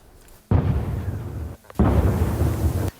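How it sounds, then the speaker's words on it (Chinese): Artillery shelling along the Thailand-Cambodia border: two heavy, rumbling blasts, each rolling on for about a second with a deep low roar, loud and close, separated by a brief lull. "泰国柬埔寨边境持续炮声隆隆"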